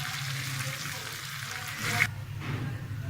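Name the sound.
cumin and green chili sizzling in oil for tadka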